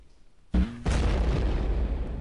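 A grenade is dropped onto the land in Second Life to reshape the terrain. Two loud, close booms land in quick succession, the second trailing into a long rumbling roar that keeps going to the end.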